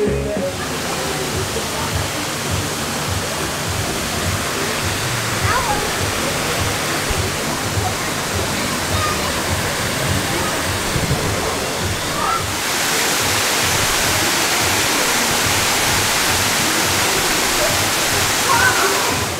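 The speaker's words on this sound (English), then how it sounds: "There's the awesome water slide." Water splashing down a resort pool water slide, a steady, close rushing wash of water that grows slightly louder partway through, with brief speech mixed in.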